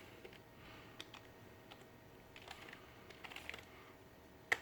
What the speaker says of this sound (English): Typing in 14 characters right now.